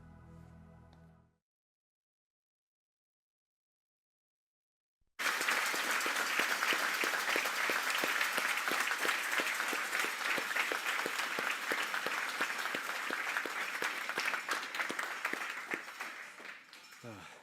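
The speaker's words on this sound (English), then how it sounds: "please join me in giving Maggie and Barry a great round of applause" Audience at a corporate event applauds two retirees, Maggie and Barry, with loud, dense sustained clapping for about twelve seconds after a brief bit of talk and a silent gap, tapering slightly at the end.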